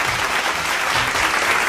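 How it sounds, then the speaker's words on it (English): An audience breaks into dense, sustained applause, many hands clapping loudly and evenly throughout with no pause. "And as everyone began applauding"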